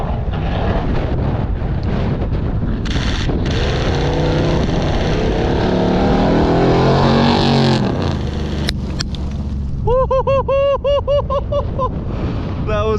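An LS V8-swapped, lifted Mazda Miata hill climb car drifts up a hill. A loud engine roar rises and surges under heavy wind buffeting, then fades, followed by shrill tire squeals or whoops near the end.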